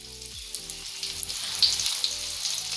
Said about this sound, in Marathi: परत जेवढं तेलामध्ये मावत असेल तितकेच पीसेस आपण घालायचे त्यामध्ये फिशचे